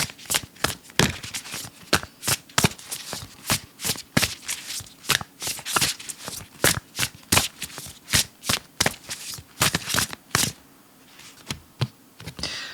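A deck of tarot-style cards is shuffled by hand in quick, repeated riffles and cuts, a steady run of crisp close flutters and slaps lasting several seconds before stopping.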